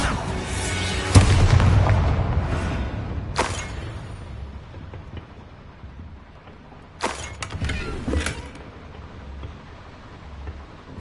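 A Bombarda spell detonating in the Hogwarts Legacy video game, heard as a loud, close blast with a rumbling tail, followed by quieter impact bursts and cracks a few seconds later, with no talking.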